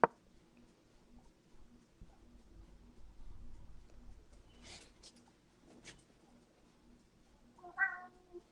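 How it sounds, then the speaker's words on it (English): A cat named Crowley meows once, short and fairly close, near the end of a quiet stretch of soft rustles and pattering as it walks across books indoors. "My cat is going to ruin my books."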